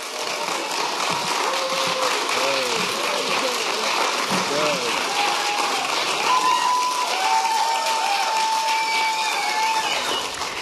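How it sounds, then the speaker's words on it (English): A crowd at an election night event in 2018 claps steadily for the full stretch, a dense sustained applause with scattered whistles. "So how about a round of applause for those that are coming up here right now?"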